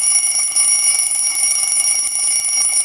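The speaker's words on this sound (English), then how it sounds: "I got this alarm clock, which makes a really annoying sound." An alarm clock rings with a harsh, steady electronic tone, loud and continuous with no pause for about three seconds, close to the listener and alone without speech.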